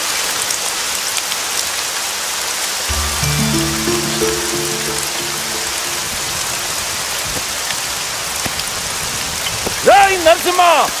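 Steady rain pours onto a farm field in a movie scene, a dense even hiss throughout, with a brief stretch of soft musical tones midway and a short voice-like call near the end.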